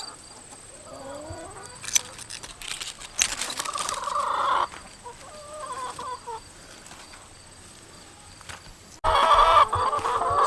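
Chickens cluck and squawk in a Minnesota garden, scattered calls near and far with a louder burst of cackling near the end.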